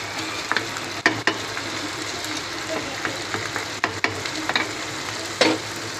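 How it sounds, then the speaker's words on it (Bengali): Rice and lentils stir-fry in a pot for khichuri, with a soft steady sizzle broken by scattered scraping and clinking knocks of a spoon against the pot. "চালটা ডালটা একটু কষিয়ে নিচ্ছি।"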